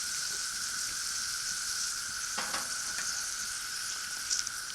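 Food sizzling steadily over an open fire, in a dish of grits with shrimp, andouille sausage and bacon. A continuous bright hiss carries on throughout, with a few brief crackles and pops and no voices.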